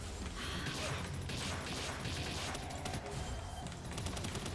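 Rapid automatic gatling gun fire in the video game Palworld, a dense continuous rattle of shots that stays loud and steady throughout with no pauses.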